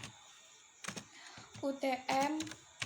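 Computer keyboard keys tapped to enter a terminal command, a few soft clicks close by under a person speaking.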